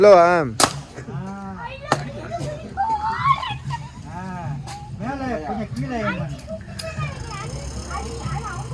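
A few sharp cracks of a toy gun at a shooting stall pop out amid lively overlapping talk and chatter, the shots brief and spaced apart.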